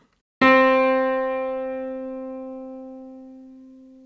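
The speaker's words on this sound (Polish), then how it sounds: "Posłuchajmy fortepianu." A single piano note struck once, ringing out with a sharp attack and a long, smooth, slowly fading sustain, clear and alone.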